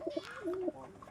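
Lakka (fantail) pigeons coo in a close, soft burst of warbling, rolling calls lasting about a second, with no talk over them.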